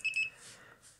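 A digital multimeter in continuity mode gives a short high-pitched electronic beep as its test leads touch, brief and clear, followed by quiet.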